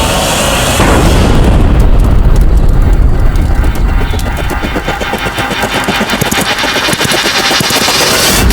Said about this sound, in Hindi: ये कैसा धमाका?